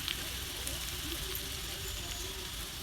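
Garlic sizzling in a hot tempering of mustard seeds and cumin, a faint, even hiss with no break and no talking.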